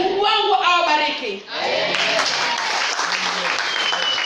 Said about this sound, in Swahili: Pigia mama yetu makofi mazuri.